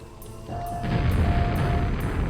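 A grenade in the Quake video game explodes in a single deep boom that swells in about half a second and leaves a rumbling tail, with faint regular ticks above it.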